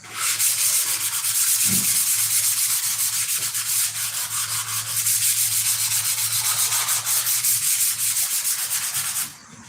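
Steady, continuous hand sanding on wood for a model airplane wing, a loud rough rasping that keeps an even back-and-forth rhythm throughout before stopping abruptly at the end.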